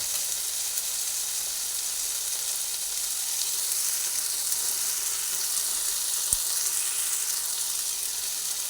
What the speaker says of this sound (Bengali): এরপরে আমি এর মধ্যে যে আলুটা ভেজে রেখেছিলাম সেই আলুটা দিয়ে দেবো